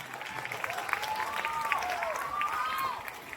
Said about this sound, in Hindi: देश के सच्चे वीर सपूतों के सम्मान में एक बार जोरदार तालियां बजाइए